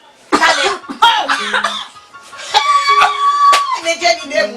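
Several sharp coughs burst out among voices in a domestic comedy scene, loud and close, with people talking and exclaiming between them.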